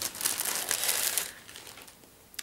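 A plastic bag crinkles and tears loudly up close as it is ripped open for an unboxing, dying down to faint rustles before one sharp crackle at the end.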